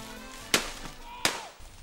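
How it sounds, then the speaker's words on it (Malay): Two sharp gunshots ring out about 0.7 seconds apart in a historical Malay drama, each a loud crack with a short echoing tail over a quiet tonal background. "Tembakan kedengaran tidak berhenti-henti dari arah Melekit dari jam 6 petang hingga 8 malam"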